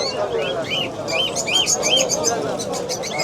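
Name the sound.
birds calling at a bird market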